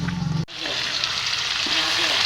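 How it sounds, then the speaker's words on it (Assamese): Meat and potatoes fry in a pan, a loud close sizzle that flares up after a brief thump and then holds steady and dense, with no talk. "তো গোটেইখিনি দি পেলাই এতিয়া অলপমান ভাজি ল'ব লাগিব"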